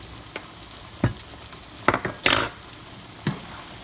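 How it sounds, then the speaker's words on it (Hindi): Okra sliced for a bhindi gosht curry frying in hot oil with onion, a low sizzle broken by a few sharp spatula scrapes and clinks against the pan, no talking. "बस भिंडी फ्राई हो रही है"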